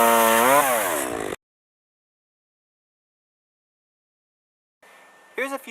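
A chainsaw used for home tree trimming roars loudly with a rising rev for just over a second, then cuts to silence before a brief voice speaks near the end.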